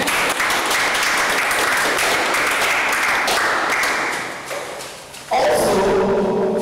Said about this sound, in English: Please clap for me now.